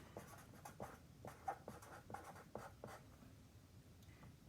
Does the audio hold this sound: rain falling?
no